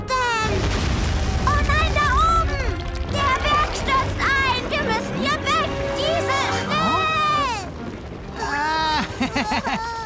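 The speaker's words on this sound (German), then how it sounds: "Sie sprengen den Felsen, um die Steine daraus zu lösen." A rock-blasting explosion in an animated children's train cartoon booms loudly under busy cartoon effects, music and children's voices.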